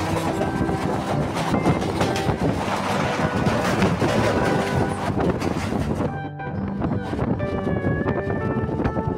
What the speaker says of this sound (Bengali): আমাদের ট্রেন বর্তমানে এখন দমদম জংশন স্টেশনে প্রবেশ করেছে বন্ধুরা।